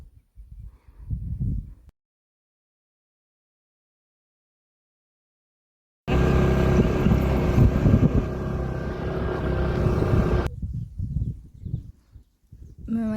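A farm vehicle's engine drones loudly from the back where riders sit, a steady rumbling roar lasting several seconds between quieter stretches, with brief sounds before and after.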